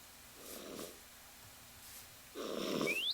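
A person growls in imitation of a Minecraft zombie during a jungle hunt. Two low, rough growls are heard up close, a short one and then a louder, longer one, against a quiet background.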